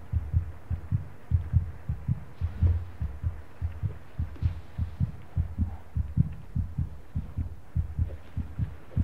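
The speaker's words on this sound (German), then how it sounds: "Ich weiß auch nicht, was dieser Herzschlag zu bedeuten hat." A steady, throbbing heartbeat from the horror video game Among the Sleep pulses in regular double thumps, deep and close, repeating evenly without any talk.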